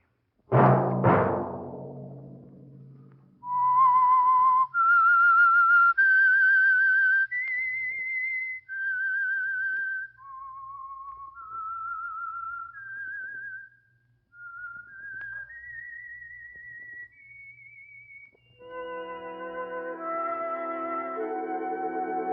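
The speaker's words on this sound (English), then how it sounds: "Let that whistle be your signal for the Signal Oil program, The Whistler" A single whistler performs the theme melody of the radio mystery program The Whistler, clear sustained notes stepping through a slow tune after a short opening chord, ending as an orchestra joins in.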